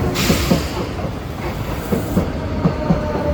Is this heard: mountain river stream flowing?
no